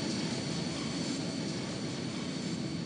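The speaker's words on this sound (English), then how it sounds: "Sounds like it's departing right now." A train in the video game Final Fantasy VIII departing for Deling City, heard as a steady, loud, broad roaring rumble with no voices over it.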